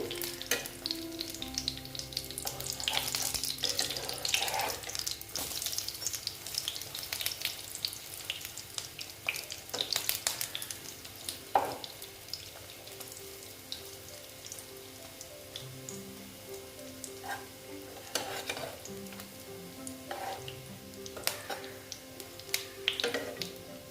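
Egg pieces fry in a pan with a continuous crackling sizzle, close and steady, broken by occasional sharp ticks and scrapes as the pieces are flipped.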